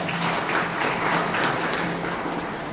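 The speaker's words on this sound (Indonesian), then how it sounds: "Sekali lagi mohon tepuk tangan untuk UT." Steady applause from an audience at a public university lecture given by the Ambon mayor at UT Ambon, a dense continuous clatter of many hands held at an even level throughout.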